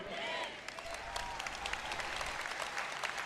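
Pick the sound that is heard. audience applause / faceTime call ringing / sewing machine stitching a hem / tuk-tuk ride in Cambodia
audience applause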